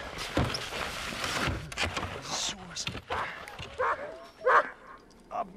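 A team of 22 sled dogs breaks into a fight at the start of a sled journey, with chaotic barking, yelps and whimpers piling over each other, close and loud, while a person talks over the commotion.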